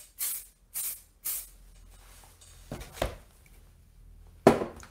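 Fixative spray misted over a pencil drawing of a cylinder: three short, even hissing bursts in quick succession, followed by quieter handling noises and a louder final rustle near the end, with no talking.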